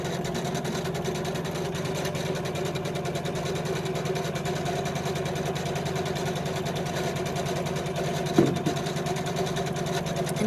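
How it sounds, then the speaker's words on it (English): An embroidery sewing machine runs steadily, stitching tack-down lines over batting on a quilt block, a continuous close mechanical hum with one brief bump near the end. "You can see now it's going to go back over itself and stitch over itself."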